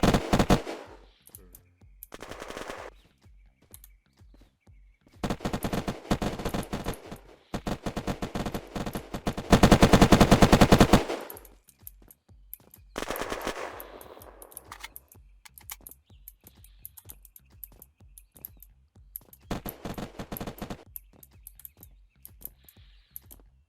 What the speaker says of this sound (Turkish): her yerde bir silah sesi ya